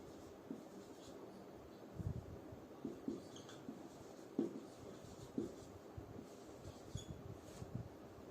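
Quiet scratching of handwriting during a class lesson on metals and non-metals, soft irregular strokes in short bursts over a low steady background hum.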